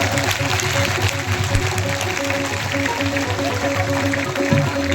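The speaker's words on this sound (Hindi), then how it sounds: "जोर से ताली बजा दो।" An audience claps steadily for about five seconds at a devotional Krishna and Sudama performance, a dense continuous patter mixed with sustained musical tones underneath.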